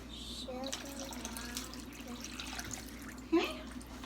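Water poured from a cup into a pot while making sugar syrup for kunafa in a home kitchen, a soft, close, continuous trickling splash under faint household background, ending with a brief clink.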